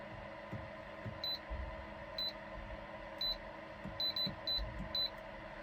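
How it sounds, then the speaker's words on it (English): A series of short, high electronic beeps from a cooktop in a camper van, some single and some in quick pairs, sounding over a steady low hum. "if you turn this on, it's going to beep at me"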